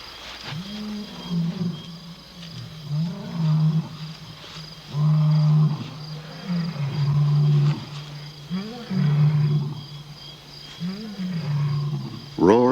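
Male lions roar at night on the African plains, a series of deep, rumbling calls rising and falling in repeated bouts of moderate loudness with short pauses between them.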